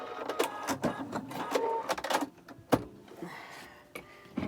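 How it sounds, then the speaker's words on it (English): A sewing machine backstitches along the edge of a face mask in short, quiet mechanical bursts, with clicks and brief pauses between them, close by and without talk. "I'm going to go all the way off the edge, backspace, or backstitch, cut."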